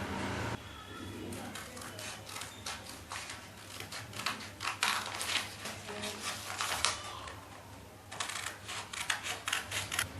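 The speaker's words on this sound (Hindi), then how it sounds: "अब इसको मैं काट लूंगी।" Scissors cut a paper pattern for a small doll suit, a close run of crisp snips and rustles with short pauses between cuts, quiet and without talk.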